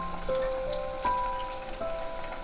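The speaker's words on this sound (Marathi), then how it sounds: "मी बारीक कट करून कांदाबरोबर फ्राय करून घेणार आहे" Finely chopped onion and green chillies frying in a pan for a potato and green pea dry sabzi, giving a steady close sizzle and crackle that stays even throughout.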